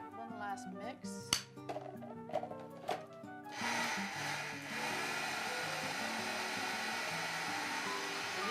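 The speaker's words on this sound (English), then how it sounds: "Scrape down the sides of the food processor. One last mix." Food processor running on vegan tuna sandwich filling, a steady loud whirring drone that starts after a few seconds of clinks and scraping against the bowl and continues to the end.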